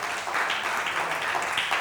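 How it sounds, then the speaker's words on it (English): Applause from a conference audience at a national trainers and speakers event, a steady dense wash of clapping that holds at an even level for the whole stretch with no voices on top. "Big round of applause for Nayab Nirja."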